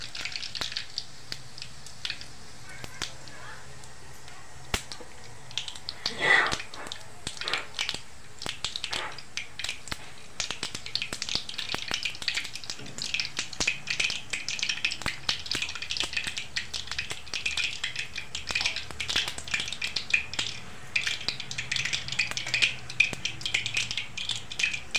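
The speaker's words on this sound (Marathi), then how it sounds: "जिरे मोहऱ्या टाकी" Mustard and cumin seeds spluttering in hot oil for a village-style fenugreek leaf dish, a steady crackling sizzle with scattered sharp pops and one louder burst near the start, close and continuous, with no talking.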